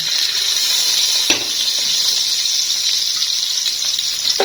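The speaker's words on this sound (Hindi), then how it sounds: "थोड़ा जा फ्राई कर लो, बस ज़्यादा नहीं करना।" Almonds, fennel seeds and nut pieces frying in a pan for sweet jaggery rice, giving a steady bright sizzle with a faint spattering pop, continuous and close with no talk.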